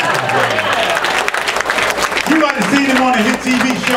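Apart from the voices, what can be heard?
comedy club audience clapping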